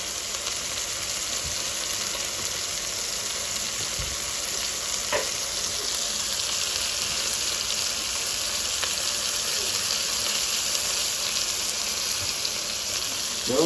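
Water poured into a hot pot while cooking beef bulalo, a steady hissing rush that sizzles continuously at close range, with a few faint clinks and no talk.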